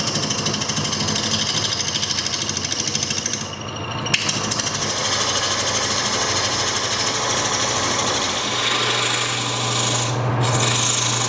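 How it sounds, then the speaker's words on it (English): Wood lathe roughing out a bowl blank held between centers with a bowl gouge, a loud continuous rasping, scraping cut with a steady mechanical drone and brief dips where the tool lifts off the wood. "And we're just going to rough it out with the bowl gouge."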